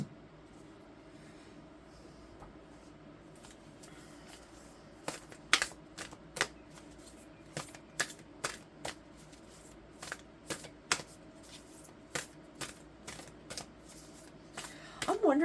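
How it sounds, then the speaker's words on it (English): Playing cards are shuffled and drawn from a deck in a regular series of crisp riffling flicks and snaps, close and clear against a quiet room, with faint talk in the background. "All right, so there's one more card here they want me to pull out here."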